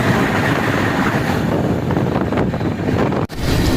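A Vande Bharat express passes on the railway near Jaunpur–Delhi Cantt, heard from aboard a moving train as a loud, continuous roar and rumble with wind buffeting and a brief dropout.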